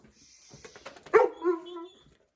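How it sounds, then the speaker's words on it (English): A single dog gives a short, close bark that trails into a whiny, drawn-out yelp, with a few soft sounds just before it, early in the morning. "It's too early to bark."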